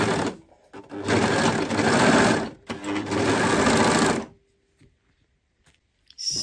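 A sewing machine stitches fabric for a shoulder button placket in two close, continuous whirring runs of about two seconds each, separated by a brief pause, then falls quiet apart from a few faint clicks.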